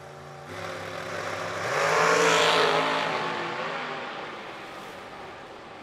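A drag racing car revs hard at the start line, its engine note climbing from a steady idle into a loud, sustained roar and then easing off. It is close and prominent, with no talk over it.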